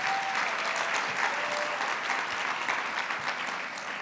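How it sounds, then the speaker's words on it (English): Audience at a gubernatorial candidate forum applauds steadily, a dense even wash of clapping that holds throughout at moderate volume with no voices over it. "Let's give him a round of applause."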